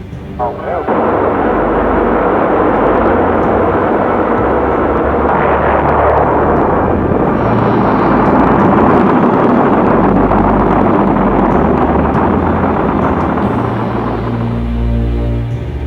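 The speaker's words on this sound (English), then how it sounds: "Captured German V-2s, the giant liquid-fueled rocket fired against the cities of London and Antwerp, were brought back to the United States and tested." A captured German V-2 liquid-fueled rocket launched in a test gives a sustained, loud roaring rumble that holds steady for about fifteen seconds after a sharp onset, with no pause.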